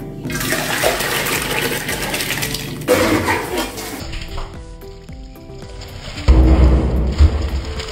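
Water is poured into a cooking pot of biryani. It makes bursts of rushing, splashing liquid with a few metallic clinks in between, fairly close and with no talking.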